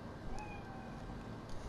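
A cat in the video game Cyberpunk 2077 gives a short, faint meow over a steady noisy hum, a brief high cry that fades quickly, with no speech.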